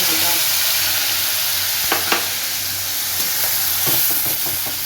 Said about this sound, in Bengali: এবার আমি এর মধ্যে আরেকটু তেল দিয়ে দিচ্ছি সর্ষের তেল গ্যাসের ফ্লেমটাকে একদম সিমে করে দিয়ে আমি পেঁয়াজ বাটাটা দিয়ে দিচ্ছি